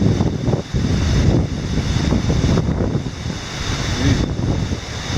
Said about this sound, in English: I had to wait a minute for the wind to die down.